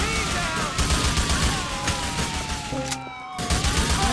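Heavy gunfire in the video game Grand Theft Auto IV, dense rapid shots over a wailing police siren, loud and continuous with a brief lull near the end.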